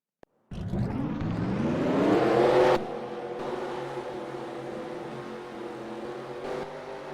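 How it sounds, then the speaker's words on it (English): In a racing video game, simulated race cars start up at once for a 60-lap stock-car event at Five Flags Speedway, a sudden loud roar that revs higher over about two seconds, then settles into a steady droning idle. "Drivers, start your engines!"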